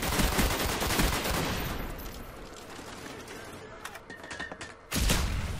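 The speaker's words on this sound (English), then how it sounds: "That's a grenade." A grenade blows up in the Black Ops shooter game, a sharp loud burst near the end that follows dense gunfire with a player talking over the match.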